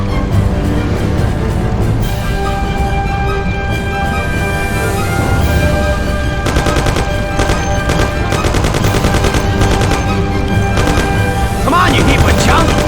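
Gunfire in a shootout in the Mafia video game, dense bursts of machine-gun and single shots rattling almost continuously and loud, with voices speaking among the shots.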